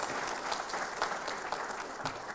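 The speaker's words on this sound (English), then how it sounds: "A loud of applause for our teachers, please." An audience at a 2024 examination results announcement applauds its teachers with a steady patter of many hands clapping at moderate volume and no voices over it.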